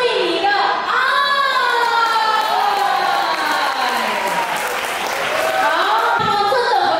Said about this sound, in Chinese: 谢谢您的掌声